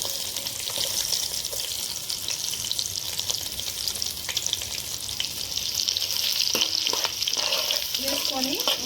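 Green chillies and onions stir-fry for a fish curry, a steady hiss of sizzling oil with scraping stirs and a few clinks near the end, close and continuous.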